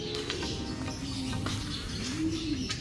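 A pet bird coos softly and repeatedly, the calls rising and falling against a steady background hum, with no voices present.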